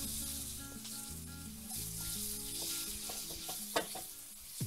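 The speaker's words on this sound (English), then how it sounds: "Now we're gonna add our garlic. Saute that in there." Garlic sizzles and fries in a hot pan while a utensil stirs and scrapes it, steady close frying noise throughout with a couple of sharper clacks near the end.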